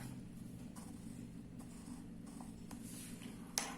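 A compass with a pencil sweeps an arc across paper for a geometry construction, giving a faint, soft scratching that runs steadily and ends in a small tap.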